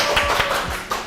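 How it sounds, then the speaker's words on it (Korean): Audience at a parenting lecture applauding to welcome a guest speaker, steady dense clapping throughout the short stretch. "여러분 박수 부탁드립니다"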